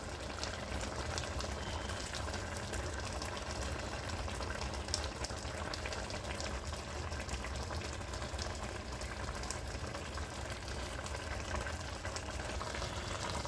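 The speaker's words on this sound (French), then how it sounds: "La graine de courge et la viande du bœuf en train de bouillir ensemble." Pumpkin seeds and beef boiling together in a pot, a steady, even bubbling and seething that runs unbroken at moderate loudness throughout, with no voices.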